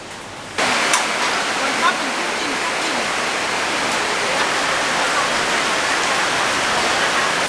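Steady heavy rain falls at night in Krabi, Thailand, a dense, even hiss that starts suddenly and holds for several seconds, with a couple of faint knocks in it.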